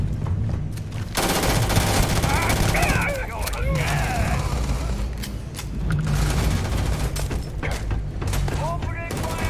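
Rapid automatic gunfire in the space shooter Starfield, loud bursts of shots with a few booms and mechanical clatter, nearly continuous over the whole stretch, while a voice shouts over the shooting.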